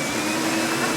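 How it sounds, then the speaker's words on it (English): Vacuum cleaner running in a film scene, a loud steady motor whine and airy roar held constant throughout the short moment. "somebody walks in front of the subtitles so we can't see it while using a vacuum cleaner so that we can't hear it"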